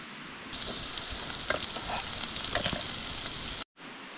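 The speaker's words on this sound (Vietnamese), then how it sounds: "Chắc là lấy cái nồi bé xong là xào món kia thôi." Food stir-fries in a small pot at an outdoor wilderness camp: a steady close sizzle with scraping stirs and small clinks for several seconds, then a sudden brief cut, and no talking.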